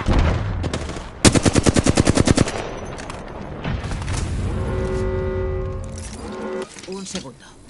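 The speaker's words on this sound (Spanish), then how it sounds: "Me dispara." Rapid automatic gunfire in a PS4 shooter game, a burst of evenly spaced shots ringing out loud and close, followed by an ongoing rumble of game action and a whining electronic tone, with no speech over it.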